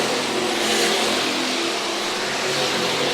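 Short track race cars accelerate out of turn four at Harris Speedway on a Saturday night, a dense, steady roar of several engines filling the whole stretch without a break.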